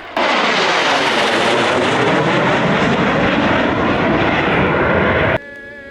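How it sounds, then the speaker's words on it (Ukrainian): Su-24 military jet roaring overhead after a memorial service, a loud sustained broadband engine rush that holds steady for over five seconds and then cuts off abruptly. "у небо піднявся бойовий літак Су 24"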